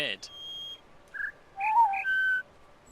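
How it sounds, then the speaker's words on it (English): A video game bird call made of clear whistled notes: a high tone, a sustained note, then a lower and a mid-pitched tone in quick succession, fairly soft over quiet ambience. "That's what I'm hearing from that bird."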